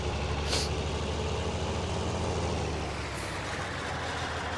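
A heavy truck engine in the Farming Simulator 19 video game runs with a deep, steady rumble, and two short hissing bursts like air brakes cut in over it.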